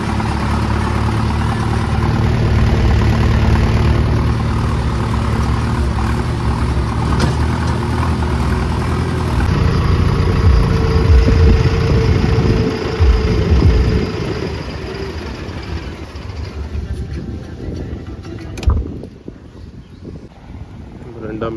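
A tractor engine idles with a low steady rumble, while wind and a voice come in intermittently; the engine fades toward the end.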